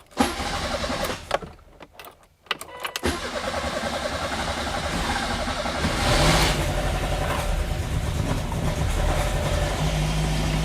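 A hot rod Yugo engine cranks with a few stuttering turns and catches, then settles into a loud, steady rough idle that swells briefly a few seconds later.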